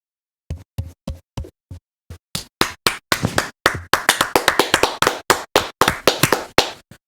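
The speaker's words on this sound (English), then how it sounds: "So David Cross, ladies and gentlemen, let's give him a quick round of applause to David Cross." Sharp, close individual hand claps in an irregular rhythm, starting sparse and growing denser, each clap distinct against silence, as if one or a few people clap near the microphone.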